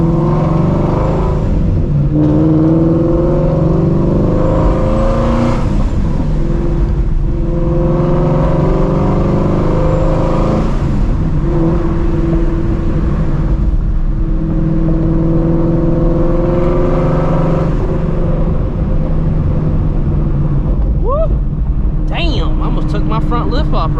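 A procharged Shelby GT350 with open headers roars loudly, revving and downshifting with rising and falling engine tones, while people talk over it throughout.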